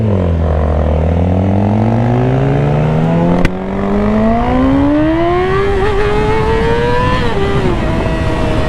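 Motorcycle pulling hard in first gear with the front wheel lifting, its engine note climbing steadily from a low rumble to a high wail, close and loud, with a short gap around a shift partway through.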